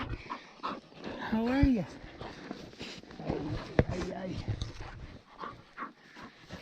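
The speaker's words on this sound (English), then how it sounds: "We're being attacked by a vicious pit bull." A pit bull whimpers with rising whines and pants close by, while someone talks to it in a friendly tone over outdoor road background noise during a bikepacking trip in Argentina.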